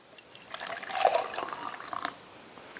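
Scalding hot water, about eight ounces, pours steadily into an MRE pouch for a pork sausage patty meal, a soft close liquid trickle and fill lasting a couple of seconds with no talking.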